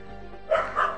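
A dog barks twice in quick succession in the background of a cricket video game being played, the two short yelps standing out over a low steady hum.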